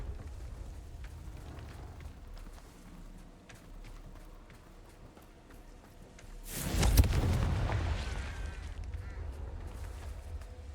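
A Confringo spell explosion in Hogwarts Legacy, a single loud, broad burst around seven seconds in that decays into a rumbling tail, over a quieter bed of game ambience.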